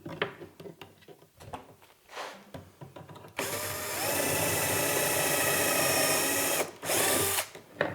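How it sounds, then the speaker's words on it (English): A power drill with a larger bit bores through a jig while a Blum Tandem soft-close undermount drawer slide is installed. After some light handling clatter, a loud, steady whine runs for several seconds, stops briefly, then returns in a short burst. "you want to use the larger drill bit and basically just drill till it stops"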